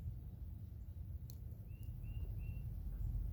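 A few faint, distant bird chirps over a low outdoor rumble, sparse and brief in an otherwise quiet scene.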